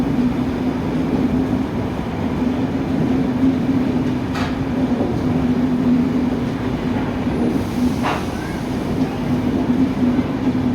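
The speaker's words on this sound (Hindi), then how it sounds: "राजेंद्र नगर तेजस राजधानी यहाँ पर अराइव करती हुई कानपुर सेंट्रल रेलवे स्टेशन के प्लेटफॉर्म नंबर 1 पर।" The Rajendra Nagar Tejas Rajdhani express pulls into platform 1 at Kanpur Central railway station, a loud, continuous rolling rumble with a couple of brief wheel squeals and clanks.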